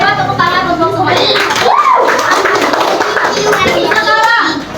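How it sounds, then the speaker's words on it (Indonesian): Primary school children in a classroom clap together after a teacher's praise, bright scattered claps mixed with lively young voices and the teacher's speech over the top. "tepuk tangan untuk semuanya"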